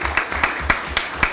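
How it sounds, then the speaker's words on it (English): A few sparse, evenly spaced claps at a school district governing board meeting, brief and moderately close, with no talk over them. "So another big round of applause for those A schools."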